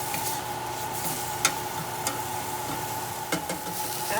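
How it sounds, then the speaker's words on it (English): Onions and ginger sautéing in a pan, a steady soft sizzle with a few brief clicks of stirring scattered through. "After the onions and ginger have been sauteed"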